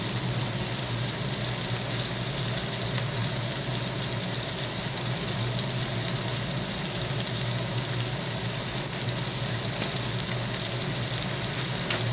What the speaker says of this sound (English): Getting all them bits up off the bottom of that pan.